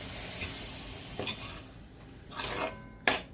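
Maggi masala poha being stirred in a pan, with soft scraping and a few sharp clinks of a utensil against the metal over a faint background hiss, no talking.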